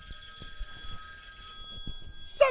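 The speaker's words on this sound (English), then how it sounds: "Somebody pick up that phone!" A telephone bell rings in a game, heard as a sustained bright metallic ring with a few soft low thumps beneath it, ending in a short loud burst.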